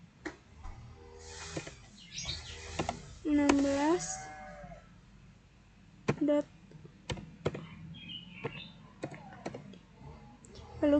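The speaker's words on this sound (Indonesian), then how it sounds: "jadi bisa kita ketik ya" Faint keyboard typing in short scattered clicks and taps at a desk, with quiet talk and a few other sounds between keystrokes.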